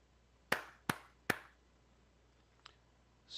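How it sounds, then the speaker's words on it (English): Three sharp hand claps ring out in quick, even succession at close range, followed by a fainter single tap and near silence. "3 claps and then you go."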